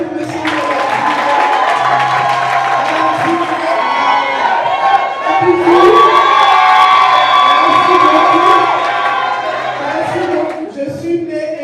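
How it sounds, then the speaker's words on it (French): Wedding guests at a civil ceremony break into loud cheering, whooping and clapping, a dense crowd roar with excited shouts rising and holding for several seconds before easing. "On applaudit"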